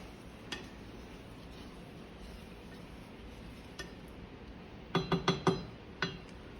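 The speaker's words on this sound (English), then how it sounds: "stir a little bit until it starts to dissolve" A spoon clinks against a glass while stirring brown sugar until it dissolves, a few isolated taps early on, then a quick burst of five or six bright clinks near the end against a quiet kitchen background.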